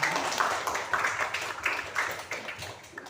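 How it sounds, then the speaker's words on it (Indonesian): Audience applause at a creative writing workshop in a community reading house: a short round of clapping from a modest group indoors, moderately loud and fading near the end. "Tepuk tangan untuk kita semua."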